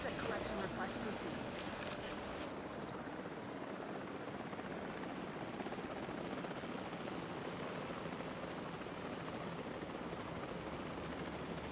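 A helicopter airlifts cargo in Jurassic World Evolution, a steady dense rotor drone holding at an even level for the whole stretch, with a brief murmur of voice near the start.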